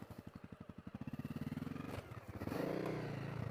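A Honda CRF250L dual sport motorcycle rides off-road through wooded hollow terrain, its single-cylinder engine thumping in a steady rapid pulse, then revving higher and smoother as it accelerates, close and loud throughout.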